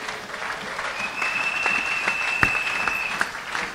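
A church congregation claps in sustained applause, a dense, even wash of many hands, fairly close, with a faint tone running through it.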